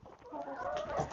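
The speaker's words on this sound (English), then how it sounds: "look at all these chickens we have here" Chickens cluck and murmur close by in a backyard coop, a brief run of soft overlapping calls that swells slightly toward the end.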